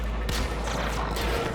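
Rapid, sustained gunfire from a player's weapon in the video game Warframe, a dense continuous burst of shots loud and close throughout.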